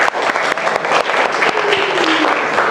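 Classroom applause for student presentations in a high school sociology lesson, a dense, steady burst of many hands clapping together at close range, continuing throughout without a break.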